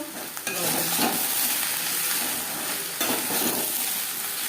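Vegetables with turmeric and salt are stirred in a frying pan, a loud continuous sizzle broken by the scrape of a utensil across the pan, with a sharper clatter near the start and another about three seconds in.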